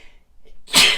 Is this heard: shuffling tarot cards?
no